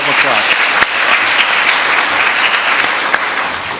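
A concert audience at a Chopin celebration gives loud, sustained applause, a dense and even wash of many hands clapping with a few sharper individual claps standing out.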